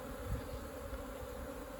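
Honeybees buzz steadily around a hive during the swarming season, a dense, even hum close by with a brief louder pass near the start.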